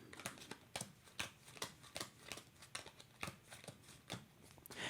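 Heavy rain cards from the Rising Waters board game are shuffled by hand, a quick run of crisp riffling snaps and slaps, close and quiet with no talk.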